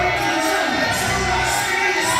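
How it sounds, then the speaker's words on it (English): A wrestling arena crowd cheers for Terry Adonis with a loud, dense roar of voices and shouts that stays steady for the whole moment. "Terry Adonis, listen to this crowd."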